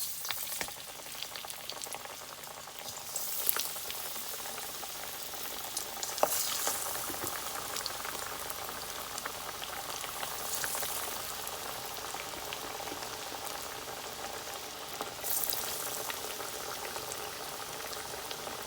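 Cauliflower vadai fry in hot oil over a medium flame, giving a loud, continuous bubbling sizzle close by with occasional surges and spatters throughout.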